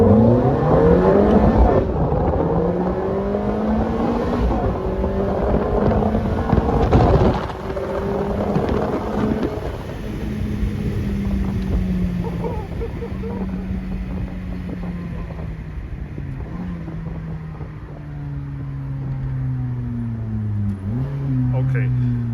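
Ferrari F430 Spider engine heard from inside the car, accelerating hard through rising and falling gear sweeps, loud and close with wind and road roar, and people talking over it.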